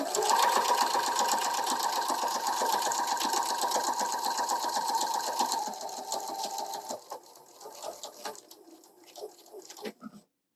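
A sewing machine stitches quilt binding in a steady, loud mechanical whir that thins out toward the end into slower, intermittent stitching.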